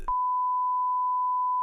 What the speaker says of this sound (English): bleep this part out